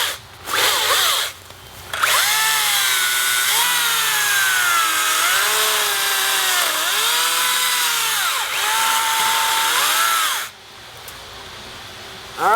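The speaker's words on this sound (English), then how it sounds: "Today, we are cutting down this tree with the brand new Makita 36 volt, 18 volt, two batteries." Makita 36 volt (two 18 volt batteries) cordless chainsaw cutting down a tree, close and loud, its electric motor whine rising and dipping in pitch as it bites into the wood, with brief pauses at the start and end.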